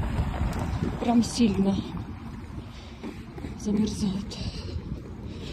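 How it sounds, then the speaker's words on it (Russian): Cold northerly wind at minus eleven degrees buffets the microphone outdoors as a steady low rumble with gusts, heard under a voice talking throughout. "Очень холодный ветер."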